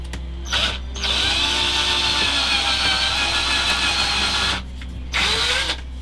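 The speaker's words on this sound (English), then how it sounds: "While I drill the locating holes" A power drill whirs loudly nearby, drilling locating holes in the wooden back of a guitar, running in a short burst, then a long steady run, then another brief burst, with a low hum underneath.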